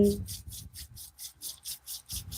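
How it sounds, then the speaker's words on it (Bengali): Two hands rub briskly together close up in a regular back-and-forth rhythm of soft, papery swishes, about ten strokes in a couple of seconds, with a brief voice at the start. "আবার হাতটাকে ঘষে নিন"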